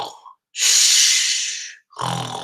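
A voice imitates Papa Bear's loud, growly snoring in a read-aloud of Goldilocks and the Three Bears: a long, breathy rasping snore, then a short snorting intake, close and alone.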